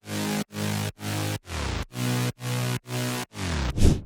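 Thick, buzzy progressive house synth mid-bass notes pulse in a steady rhythm of short stabs; the last note drags downward in pitch as if a tape were slowing to a stop.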